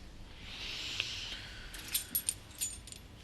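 A bunch of barn keys jangles in a few quick metallic clinks and rattles, close and fairly soft, following a faint hiss, with no talking.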